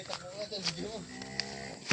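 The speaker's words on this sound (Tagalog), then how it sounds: "Oh, may baka pa." A cow mooing on a farm, a drawn-out low call at moderate distance with faint outdoor clicks and background sounds around it.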